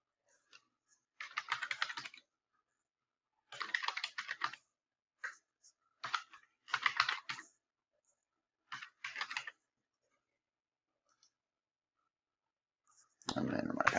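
Someone types a password on a computer keyboard in short separate bursts of quick key clicks with pauses between them, close but soft in a quiet room, before a louder sound comes in at the end.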